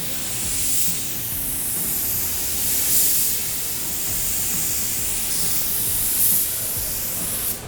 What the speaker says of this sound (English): And this is Dylan, who's doing another spray simulation with our state-of-the-art virtual reality.